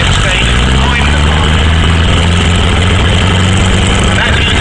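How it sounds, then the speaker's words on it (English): Piston engine of a National Fire Service trailer fire pump runs steadily and loud nearby at a steam rally, a continuous low drone with a buzzing rhythmic beat throughout. "that's using a piston engine to suck the air out to get water in"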